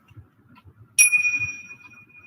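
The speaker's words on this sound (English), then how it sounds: "I want you guys to just listen to the sound of the bells" A single bright bell is struck once to guide a breathing exercise, its clear ringing tone sustaining and slowly fading after faint background murmur.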